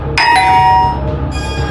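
A doorbell at a house in Montgomery, Texas chimes loudly twice in a quick ding-dong, its bright tones ringing out and fading, followed by a further softer chime.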